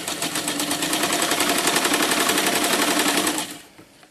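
Sewing machine stitching the hem of a fabric hammock, a loud close rapid mechanical chatter running steadily for about three and a half seconds before stopping abruptly.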